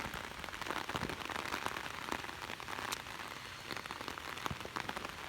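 Heavy rain pours down outdoors, a dense, even patter of drops striking surfaces with scattered sharper splats, steady and close throughout with no voices.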